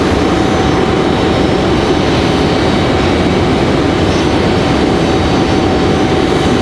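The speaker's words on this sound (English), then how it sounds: "There's our 737 MAX getting ready for departure." Boeing 737 MAX jet engines run as the plane readies for departure at Raleigh-Durham airport, a loud continuous broadband roar with a faint steady whine, unbroken throughout.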